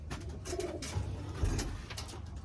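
Racing pigeons coo in a loft, soft low repeated coos over a steady hum of bird activity, fairly close and continuous throughout.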